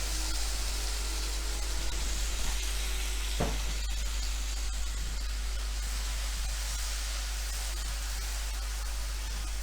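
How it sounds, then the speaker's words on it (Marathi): Masala spices with chilli powder sautéing in a hot pan for stuffed tomatoes, a steady close sizzle and crackle with a brief stir scrape partway through, no talk. "तिखट घालून झालं की लगेचच आपण त्यामध्ये मसाला घालायचा आपला मसाला हा छान परतला गेला पाहिजे"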